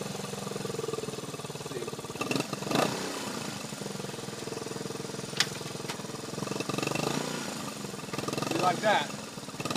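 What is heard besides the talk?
1977 Honda CT90 trail motorcycle engine idling and revving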